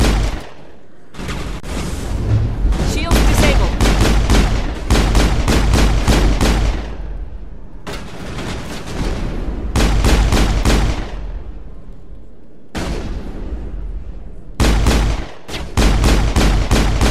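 Heavy bursts of gunfire in the Mass Effect video game, loud close volleys separated by brief silent gaps, sharp repeated shots ringing through each burst, no talk.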